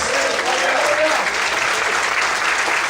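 A church congregation applauds steadily and loudly, a dense continuous clapping that fills the whole span with a few voices mixed in.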